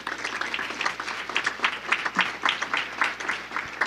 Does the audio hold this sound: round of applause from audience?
yes